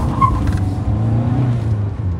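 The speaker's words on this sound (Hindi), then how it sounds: "ये देखा व्हील स्पिन।" A 2023 Kia Sonet 1.5 diesel with a six-speed manual accelerates hard in first gear with wheel spin, giving a steady, close, low engine rumble and road noise heard from inside the car.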